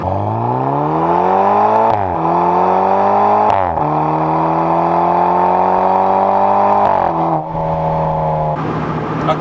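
A loud BMW Z4 2.8 with a quad-outlet Akrapovič exhaust revs repeatedly, pitch climbing and dropping in several surges, with a sharp crackle near the end.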